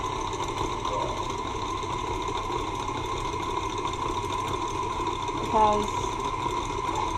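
An electric mixer whips a honey and gelatin mixture at a raised speed, giving a steady continuous whir throughout while a voice talks over it.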